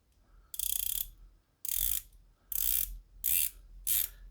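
Crown of a Vanbanner Lea watch being hand wound, five short bursts of fine ratcheting clicks, close and crisp, separated by brief silences as the crown is turned.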